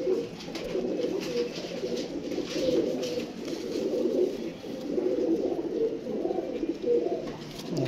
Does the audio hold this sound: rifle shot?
no